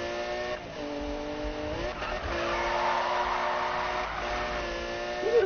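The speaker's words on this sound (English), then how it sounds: "Yeah, I'll drift a little bit for you here." A car drifts in the Need for Speed Rivals video game, the engine revving in sustained tones with squealing tires that rise and fall as the drift continues, loud and close, no voices.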